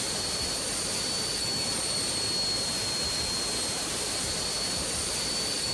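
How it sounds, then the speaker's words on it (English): Rolls-Royce jet engine of a Boeing 757-200 running in the X-Plane 12 simulator, a loud, constant broadband roar with a thin steady high whine and no variation across the span. "This is the Rolls Royce engine, by the way."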